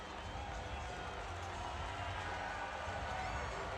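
A large hockey crowd of about 6,568 applauds a player inside the Raising Cane's River Center during a Prowlers vs Sea Wolves game, a dense, steady wash of clapping and crowd noise that fills the arena.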